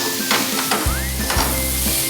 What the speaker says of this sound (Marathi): गूळ मेल्ट होईपर्यंत, साखर मेल्ट होईपर्यंत छान असे परतून घेऊयात